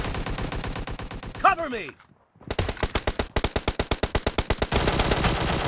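Rapid automatic gunfire in PUBG rattles out in fast rhythmic bursts, broken by a brief silence, then resumes as a steady stream of loud shots, with a short spoken call among them.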